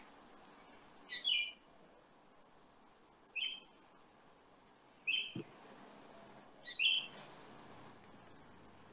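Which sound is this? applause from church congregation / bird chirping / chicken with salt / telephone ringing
bird chirping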